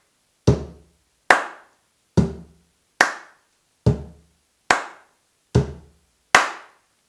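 Cajón rhythm exercise with eight evenly spaced strokes, about one every 0.8 seconds, each a sharp broadband hit with a short decaying tail and a deep low end. The strokes sound up close and alone.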